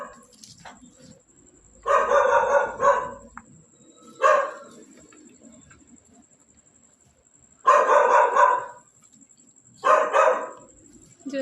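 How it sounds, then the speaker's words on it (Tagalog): Loud dog barks in two separate bursts of rapid barking in a cemetery, each lasting a second or two, with quiet gaps between and a faint steady tone throughout. "May aso doon, may aso."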